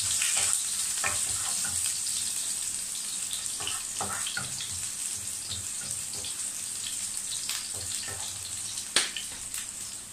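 Onion frying in a hot pan, a steady close sizzle that hisses throughout, with a few scattered clicks and taps of stirring.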